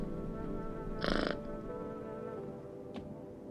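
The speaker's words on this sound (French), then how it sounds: "Caresser le chat." A cat purring as it is petted in the video game No, I'm not a human: a short, buzzy burst lasting about a third of a second over a low, steady game ambience.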